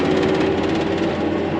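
A tractor pulls a 100-foot Bourgault air drill across a field, its engine a loud, steady drone with a constant hum and rhythmic mechanical chatter, close and continuous, with no voices.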